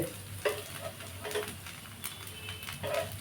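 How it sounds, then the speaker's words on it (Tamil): Rava dosa roasts in oil on a pan with a soft, steady sizzle, broken by occasional spatula taps and scrapes. The sound is fairly quiet and close, with no speech. "நல்லா இடையில எண்ணெய் ஊற்றி நல்லா ரோஸ்ட் ஆக்கிட்டு எடுத்துட வேண்டியதான் ரவா தோசை"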